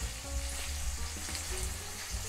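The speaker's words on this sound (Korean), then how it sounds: "오늘은 일단 식용유만 넣고 붙이고 있는 거고요" Tofu pan-fries in cooking oil, a close, steady sizzle and crackle that continues throughout without talking.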